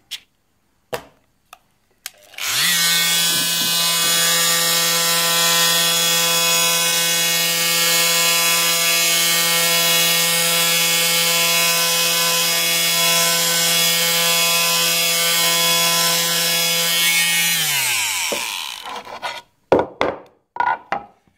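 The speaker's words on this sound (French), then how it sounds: "Là, je vais poncer juste l'intérieur pour vous montrer que c'est pratique d'avoir justement un petit triangle" A Fein oscillating multifunction tool fitted with a small triangular sanding pad sands inside a wooden piece, giving a loud, steady, high buzzing drone for about fifteen seconds before winding down, with a few handling knocks at the end.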